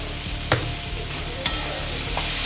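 Food with a little salt frying in a pan, a close steady sizzle with a couple of sharp stirring scrapes.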